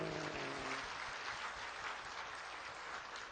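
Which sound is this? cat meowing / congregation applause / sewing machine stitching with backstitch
congregation applause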